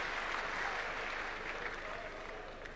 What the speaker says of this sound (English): A round of applause for Powerman.